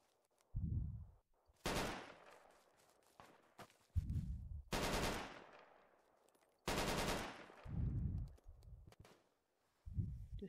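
Video game gunfire in Project Reality: several separate bursts of automatic fire, loud and close, with short gaps and sharp, decaying tails between them.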